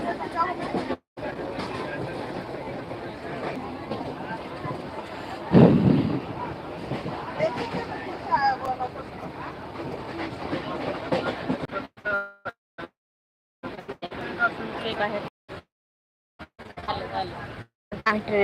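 A steady rumble of a Mumbai train rolling along the rails, heard from a seat inside, fills the clip, with people talking over it and a few brief dropouts near the end.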